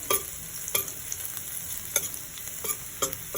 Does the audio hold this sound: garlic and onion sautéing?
yes